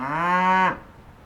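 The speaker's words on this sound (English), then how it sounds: "the cows, naturally, when I'm trying to make a video, we're gonna stand here and make a bunch of noise" A cow on a farm lets out a single long, loud moo that holds steady and stops sharply, then quiet follows with no voices.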